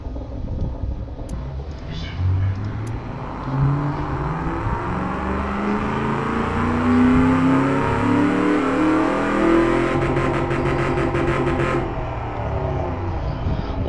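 A truck engine, set to its highest horsepower rating, revs and pulls with a deep rising drone that climbs and settles over several seconds, loud and steady with some wind-like rush, no talking.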